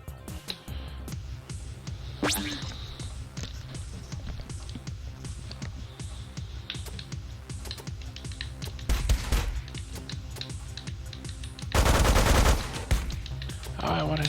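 Rapid machine gun fire in the video game Megabyte Punch, a steady stream of fast repeating shots running throughout, with a louder burst of blasts near the end.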